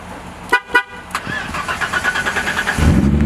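BMW E30 engine starting after master cylinder work. Two short loud cranking bursts are followed by a rhythmic stuttering catch that builds into a rough near idle, with no talk.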